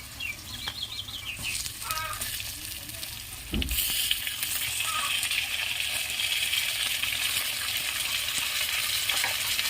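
Rohu fish pieces drop into hot oil in a wok with already-fried chili, village-style cooking; a steady, close sizzle jumps louder after a dull thud partway through, with bird chirps in the background.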